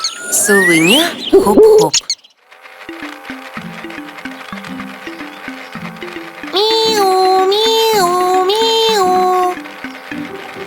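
A cartoonish hooting owl call sounds amid bright playful music, with a descending musical line and a steady melody below.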